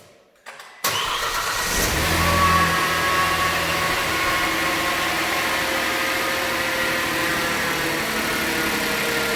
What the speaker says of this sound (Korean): 그러면 시동을 다시 한번 걸고요.